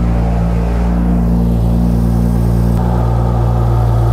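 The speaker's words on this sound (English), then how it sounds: "let's start the car" BMW N55 engine after an accessory belt tensioner and idler pulley replacement, running at a steady, loud, close idle: a continuous low rumble with even hum, no revving, and no talking.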